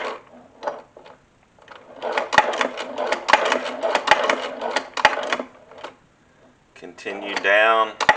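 Sewing machine stitching an alligator hide lanyard phone case: a fast, even ticking run of stitches lasting a few seconds, then brief stops, with a person talking over it.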